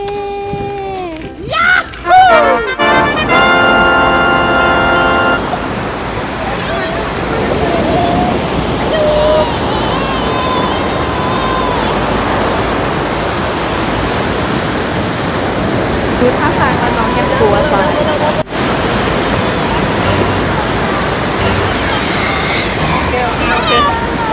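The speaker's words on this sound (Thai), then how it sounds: "ทะเล" Steady roar of surf washing on a beach, broad and continuous, with a brief opening of voices and chatter over it.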